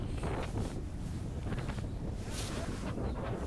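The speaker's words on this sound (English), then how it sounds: "It is very windy." Strong wind at a baseball game buffets the microphone in continuous rough gusts, a loud, unbroken roar with no voices.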